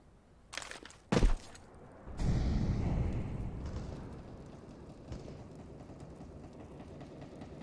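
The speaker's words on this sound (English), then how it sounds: "Flash! Flashbang!" A flashbang grenade goes off in the game CS:GO as a sharp crack followed by a broad, rumbling roar that fades slowly into a steady hiss, preceded by a couple of short, punchy clicks.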